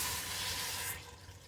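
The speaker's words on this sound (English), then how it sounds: "then we'll put our chicken broth in with our water" Chicken broth pours steadily into a pot of water for a cooking soup, a continuous close splashing stream that stops abruptly about a second in.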